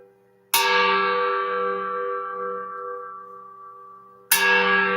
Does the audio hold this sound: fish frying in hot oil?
no